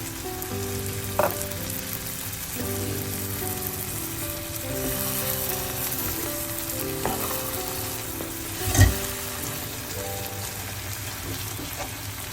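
Eggplant curry with tamarind water cooking in a pan gives a steady, close sizzle and bubbling that runs unbroken throughout, with a couple of short utensil knocks and no talking.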